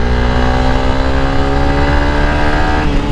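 Honda CRF300L Rally motorcycle engine holding a steady, loud drone while riding on a trail, with a rising pitch near the end as it revs, no talking.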